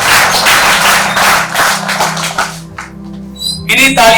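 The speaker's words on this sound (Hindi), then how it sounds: "तालियों से स्वागत करें।" Audience applause greeting a guest, Major General (Retd.) T.P.S. Rawat, as he is invited onto the stage at a formal event; broad sustained clapping fills most of the span, thinning toward the end, with a voice speaking over it.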